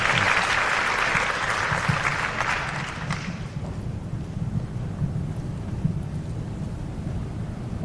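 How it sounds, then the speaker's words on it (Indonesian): Students at a school event for Jakarta student council heads applaud loudly in a dense, sustained clapping burst that fades after about three seconds into a low rumbling crowd murmur. "Tepuk tangan dulu buat saya yang tadi sudah terlibat."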